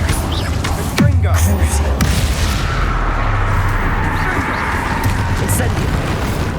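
A Confringo curse from Hogwarts Legacy erupts in one loud, sharp blast, followed by a rumbling fiery roar with low booming and crackle that holds steady for several seconds.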